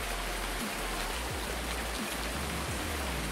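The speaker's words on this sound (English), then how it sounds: "I hear the rain." Steady rain pours in Farming Simulator 19 on the Riverview map, a continuous even hiss with no breaks, with a low rumble underneath and a few faint tonal sweeps.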